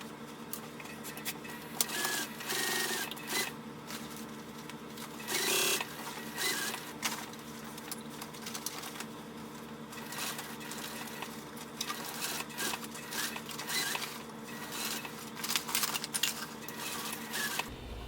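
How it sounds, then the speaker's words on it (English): A domestic sewing machine stitches continuously around a tote bag, its motor whirring close and steady for the whole span with brief bursts of faster running and short pauses. "I'm going to sew all the way around this bag."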